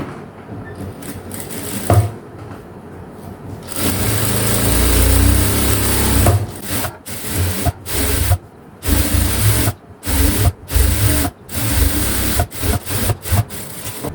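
A sewing machine stitches thread piping around a round blouse neckline. It runs in loud, close whirring bursts, steady at first and then broken by short stops and restarts as the second stitch line is sewn.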